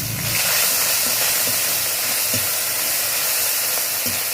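Onion, bay leaf, cumin and a ginger, garlic and green chilli paste frying in hot oil, giving a loud, steady, unbroken sizzle and hiss close up with only faint clinks underneath and no speech.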